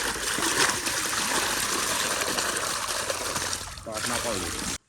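Water pours and splashes steadily into a sprayer pump tank for several seconds with voices in the background, then stops abruptly.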